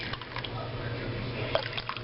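Hot beef broth made from a beef-flavored broth base poured into a cup, a soft steady liquid trickle with faint drips, close and quiet with no talk.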